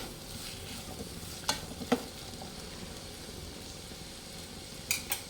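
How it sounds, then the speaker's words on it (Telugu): Onions stir-fried in a pan and stirred with a ladle until browning, a soft continuous sizzle with a few sharp metallic ladle clinks, close up and moderately quiet. "గరిటతో కలపండి బ్రౌన్ కలర్ వచ్చే వరకు ఈ ఉల్లిపాయలు"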